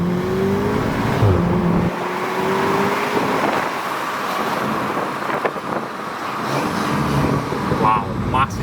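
An MQB car fitted with an induction intake accelerates on the road, the engine rising in pitch through revs with intake roar and wind noise, while occupants talk over it inside the cabin.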